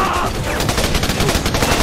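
Rapid automatic gunfire in the Raven Squad shooter, a loud continuous burst of closely spaced shots rattling steadily through the short span.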